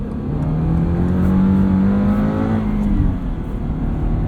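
A 2022 Subaru BRZ with a 2.4 liter boxer engine and six-speed manual revs as it accelerates, a loud droning engine note rising steadily in pitch from inside the car.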